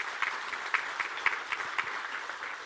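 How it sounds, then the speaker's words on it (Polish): An audience at an awards gala applauds steadily, a dense, moderately distant wash of clapping with a faint rhythmic pulse of accented claps running through it. "miło będzie im usłyszeć brawa w tym momencie"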